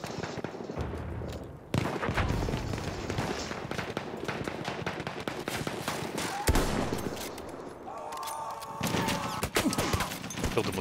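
Dense battlefield gunfire in the World War I shooter Battlefield 1, including revolver shots, a constant loud barrage of overlapping shots, explosions and crashes with little pause.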